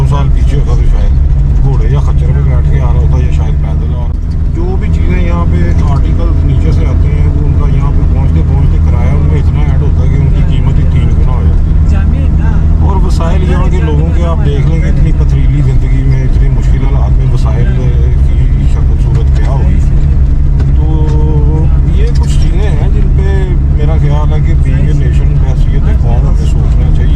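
Inside a car on the move, a loud steady low engine and road rumble runs throughout while someone talks over it.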